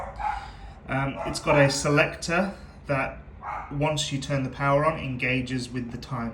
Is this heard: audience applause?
no